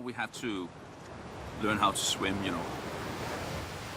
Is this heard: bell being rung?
no